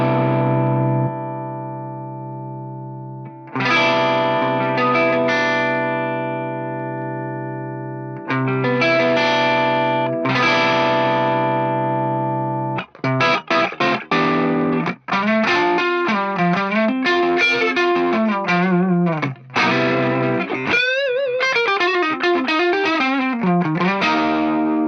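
Clean tone from an Axe-Fx III guitar processor with a grinder boost: sustained ringing chords decay slowly, then a run of quick picked single notes and chord stabs follows. The tone is bright and close with a touch of reverb.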